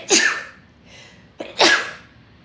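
Two sharp sneezes in a row, close and fairly loud, with a brief sharp inhale between them.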